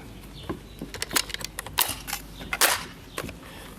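A Nerf Rival Kronos XVIII 500 Phantom Corps Edition blaster gives a series of sharp mechanical clacks and snapping shots, several quick bursts heard close and fairly loud with no speech.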